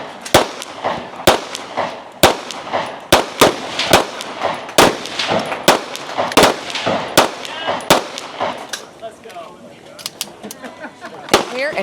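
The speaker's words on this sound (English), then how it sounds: "she loads her pistol in just 12 shots" Pistol shots ring out at a women's shooting competition stage: a rapid series of about a dozen loud, sharp cracks at uneven spacing, with reverberant echoes between them.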